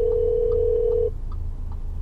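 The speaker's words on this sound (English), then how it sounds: "why don't we try out the Bluetooth phone?" A phone call ringing through the Bluetooth system of a 2014 Audi A4, with a steady ring tone for about a second inside the car, then it cuts off and low cabin rumble continues.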